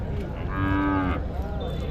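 Cattle mooing at a country cattle market in Tamil Nadu, one loud drawn-out moo with a rising and falling tone, followed by a shorter second call, up close and clear of talk.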